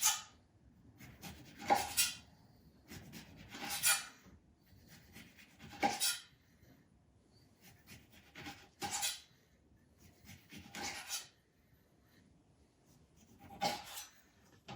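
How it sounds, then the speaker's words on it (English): Oranges being peeled and cut with a knife, with a series of crisp, separate cutting and scraping strokes every couple of seconds against quiet room tone. "once you peel the skin off, what you do with a knife is you go next to the white skin"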